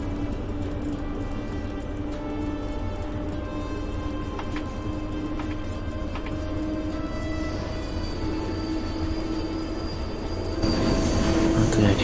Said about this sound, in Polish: A tu jakiś pociąg towarowy.